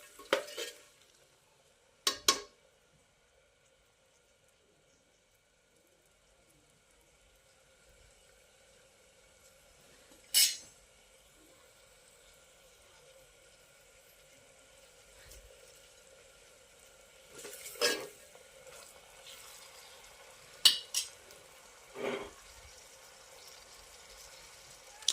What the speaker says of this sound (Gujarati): સાથે થોડું મીઠું પણ એડ કરી આપવાનું જેથી મસાલા સારી રીતે શેકાઈ જાય.